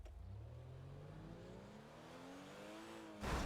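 A BMW X5 in the GTA 5 video game revs hard while heading onto an ice mega ramp, its engine note climbing steadily in pitch for about three seconds before a louder burst of noise at the end.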